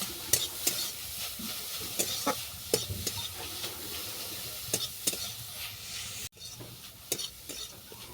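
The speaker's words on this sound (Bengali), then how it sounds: "কুটে নেওয়া এলাচ। এটা 2 মিনিট ঘিয়ের মধ্যে ভালো করে ভেজে নেব।" Crushed cardamom fries in ghee, a soft steady sizzle punctuated by regular clicks and scrapes of a spoon stirring against the pan, close and without talk.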